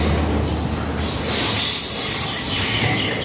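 A train squeals on its wheels at Thiruvananthapuram Central station, a loud sustained metallic screech over a constant rumble of rolling railcars, no talk.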